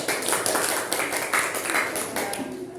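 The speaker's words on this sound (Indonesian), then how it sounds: "Tepuk tangan sekali lagi loh." A classroom group claps briefly after a poetry recitation, a short burst of scattered hand claps that fades within a few seconds, with a faint voice near the end.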